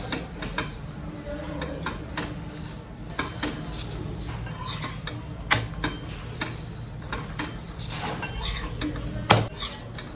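A sesame flatbread is pressed repeatedly around its edges as it roasts on a griddle. Close scraping taps and soft clinks come in an irregular rhythm over a faint, continuous sizzle.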